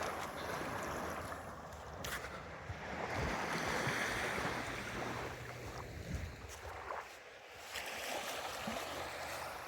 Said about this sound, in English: This is beautiful Inverness Beach.